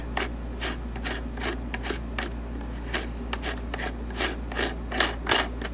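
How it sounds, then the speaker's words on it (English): Unscrewing the lens on a Sony AVC-3400 videocorder gives a run of close, dry ratcheting clicks at an uneven pace against a steady low hum, with a sharper knock near the end. "once that comes off, then I can unscrew the whole lens."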